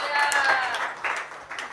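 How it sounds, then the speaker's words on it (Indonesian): A church congregation claps in praise during a sermon, a brief burst of scattered clapping with a tonal voice or instrument trailing through the start, fading and picking up again in short surges. "Tepuk tangan untuk Tuhan."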